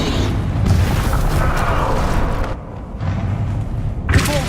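The Bombarda spell explosion in the video game Hogwarts Legacy: a deep, sustained boom with a roaring rumble that dips briefly, then surges again with a sharp burst near the end, loud and close.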